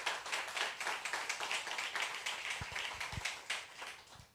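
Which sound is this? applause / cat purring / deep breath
applause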